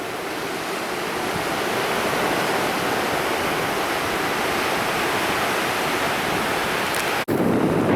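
Surf washes steadily onto Omaha Beach in Normandy, France, a dense, continuous roar of waves heard close up with no voices, then cut off abruptly near the end.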